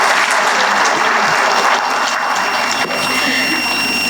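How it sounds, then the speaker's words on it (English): Audience applause fills a convention centre hall during a security leadership summit, a dense, steady wash of clapping that holds for several seconds with a slight dip near the end. "Once again, a big round of applause, everyone."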